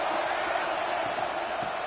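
Steady roar of a football stadium crowd during a fourth-down play against #22 Pitt, a dense, continuous wall of noise with no breaks and no clear voices above it.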